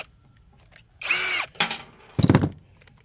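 Power drill backing two screws out of a microwave casing being scrapped: two bursts of whirring motor, the first longer, then a louder rattling burst, close and loud with quiet gaps between.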